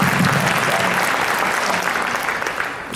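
Audience applause at a Muslim convention, a dense steady wash of clapping from a hall crowd that holds strong throughout and tapers slightly at the end.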